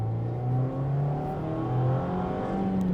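A 2024 Mazda MX-5 Miata with 181 horsepower pulls hard under acceleration, its engine note climbing steadily through a gear, heard from the cabin with a brief dip before rising again.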